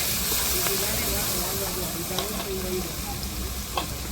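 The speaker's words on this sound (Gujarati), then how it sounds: "તેલ મુકાઈ ગયું છે તો રાઈ જીરું હિંગ ખડા ગરમ મસાલા નો વઘાર થઈ ગયો છે" Ginger, garlic and chilli paste sizzling in hot tempering oil with mustard seeds, cumin, asafoetida and whole spices, cooked over an outdoor wood-fired stove; a steady, close frying hiss with a few stir clicks throughout.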